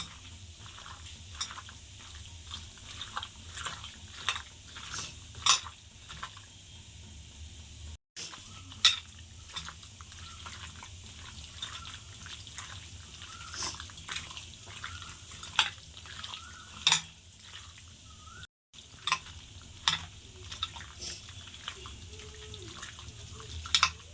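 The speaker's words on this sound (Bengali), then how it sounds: "এবার চিকেনটাকে খুব ভালো করে মেখে নেবো" Raw chicken is mixed by hand with mustard oil and sugar, making soft, wet squelching and sticky slapping sounds in an uneven, continuous rhythm close to the ear.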